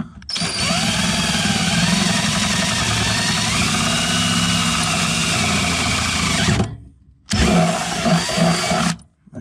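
A power drill with a half-inch bit widens a hole in thin metal during a trailer hitch install on an MK4 Jetta TDI, whining loud and close in one long sustained run, then a brief pause and a shorter second burst.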